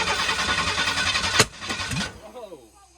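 A 1991 Ford F150 engine cranks in a rough, pulsing rhythm, then backfires once with a sharp loud pop through the throttle body before the noise dies away and a voice reacts.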